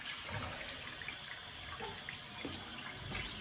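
Tap water running in a bathroom sink while the face is wetted before a shave, a continuous hiss and splash with small irregular spatters, fairly close and steady throughout.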